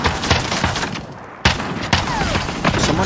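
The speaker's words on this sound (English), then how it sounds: "I'm getting shot." Gunfire in Call of Duty: Modern Warfare Warzone, a dense burst of shots with sharp cracks around the middle, loud and close against steady battle noise.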